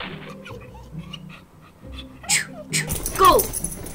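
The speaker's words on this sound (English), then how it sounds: "Ugh, dogs. I hate dogs." A dog whimpers and yips in a toy-doll Christmas scene, short high cries and panting sounds that rise louder toward the end, mixed with a person speaking.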